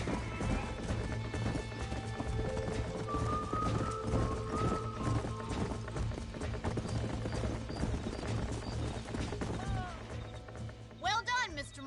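Horses trotting in the game Red Dead Redemption, steady clip-clop hoofbeats at a brisk rhythm under game music, with voices talking over them and a brief whinny near the end.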